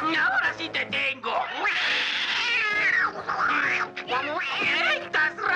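A cartoon cat from The Smurfs meows and yowls loudly in drawn-out, wavering cries, with excited voices chattering in Spanish over the racket.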